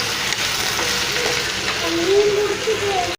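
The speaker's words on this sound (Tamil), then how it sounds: "இப்போ இந்த வாழைக்காவை ஆட் பண்ணிக்கலாம். இப்போ இதை நல்லா வதக்கி விட்டுக்கலாம். நம்ம எண்ணெயிலே தான் வதக்க போகிறோம்." Boiled raw plantain sautéing in oil in a pan, giving a dense, continuous loud sizzle with faint stirring, alone and steady throughout.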